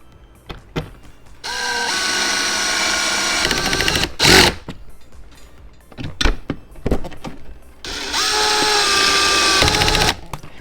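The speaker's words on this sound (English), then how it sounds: "And then you want to screw those screws in first." A powered driver runs mounting screws in on a Toyota fog light, giving two sustained whirring bursts a few seconds apart with rising pitch and short clicks and handling knocks in between.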